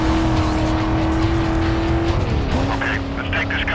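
Camaro engine in the racing game Need for Speed: Most Wanted, a loud continuous roar that holds steady, dips as the car shifts gear, then rises again. Police radio chatter plays over it.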